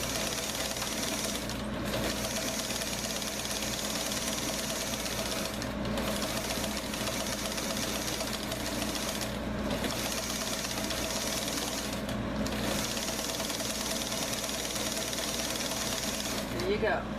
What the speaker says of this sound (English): I have a serging machine, and I also have a serging attachment.